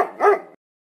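A cartoonish puppy in a Roblox game gives a single short, clear yappy bark with a rising then falling pitch, close and alone.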